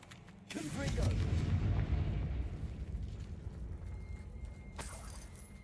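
A Confringo fire spell blasts in a Harry Potter video game: a sudden loud rumbling burst that swells and slowly decays over several seconds, with a second sharp crack near the end.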